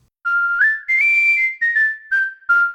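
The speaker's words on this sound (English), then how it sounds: "Here you have a choice between normal." A clear, bright sampled whistle from a whistle sound library plays a short melody of five or six sustained notes, each sliding gently between pitches, close and loud with brief gaps.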